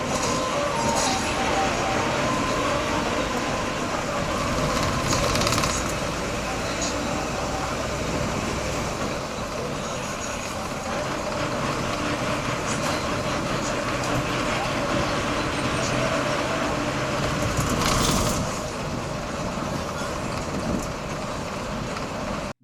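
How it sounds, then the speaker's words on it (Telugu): An APSRTC Super Luxury bus pulls away from a boarding point and keeps driving. A steady, loud interior drone of engine and road rumble runs throughout, with occasional rattles and louder swells. "ఇప్పుడే జడ్డంగి నుండి మన బస్ బయలుదేరింది."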